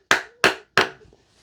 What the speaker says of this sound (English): Got a hammer and a piece of scrap wood so I can make sure these are fitted tightly without messing up